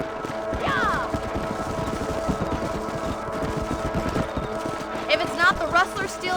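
Galloping horse hooves in the Red Dead Redemption video game, a steady rapid clip-clop running under continuous background sound, with brief whistle-like calls and a shout near the end.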